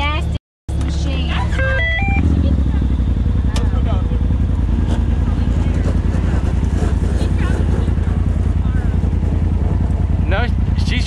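An RZR side-by-side off-road vehicle drives at Windrock with a loud, constant engine drone, briefly cutting out near the start, while people talk over it.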